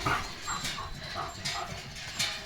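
A German Shepherd barks at a passing bullock cart, loud and close, in sharp repeated bursts roughly every half second with no talking.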